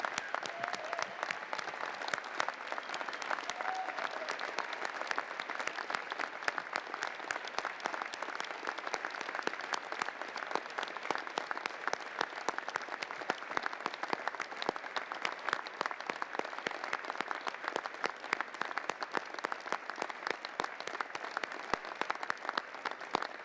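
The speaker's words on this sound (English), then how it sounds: "give a huge round of applause to all those people who supported you throughout" Graduates at a spring university convocation applaud their supporters, producing sustained, dense clapping from a large crowd that stays even and fairly distant throughout.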